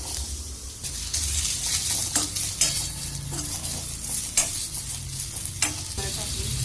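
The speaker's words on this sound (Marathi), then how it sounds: "आता कांदा भाजून घेऊया" Onion roasts in a pan for bottle gourd kofta, a steady close sizzle broken by frequent scraping strokes of a spatula as it is stirred.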